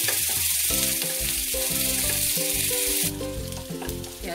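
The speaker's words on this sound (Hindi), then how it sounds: "प्याज हमारी भून गई है" Chopped onions fry in a pan for a jackfruit curry, with a steady loud sizzle under faint stirring, easing slightly toward the end.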